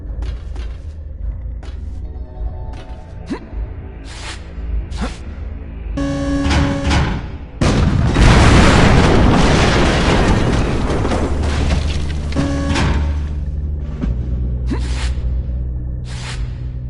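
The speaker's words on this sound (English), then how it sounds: "Explosions in place." A heavy blast from the video game Ghosthunter booms out and rumbles on for several seconds amid a busy game soundscape of pulsing tones and effects.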